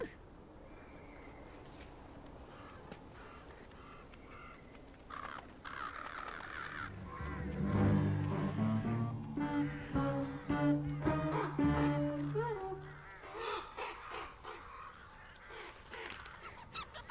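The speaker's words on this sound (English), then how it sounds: "That crow's taunting us." A crow caws repeatedly in the video game Tearaway Unfolded, a cluster of harsh calls building in the middle over a steady game background, with someone talking at points.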